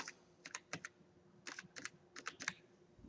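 Fingers typing a ten-digit mobile number on a computer keyboard, a close, quiet series of crisp key clicks in small clusters, with no speech.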